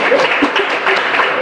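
Audience applause at a comedy-style talk event: a short, dense burst of many hands clapping, loud and fairly close, steady throughout.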